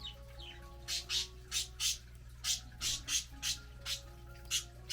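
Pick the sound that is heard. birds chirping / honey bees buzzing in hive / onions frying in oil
birds chirping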